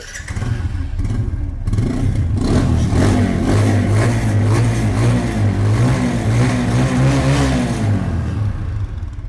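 A motorcycle engine revs steadily up and down, loud and close, with a rough mechanical clatter running beneath the throttle swells.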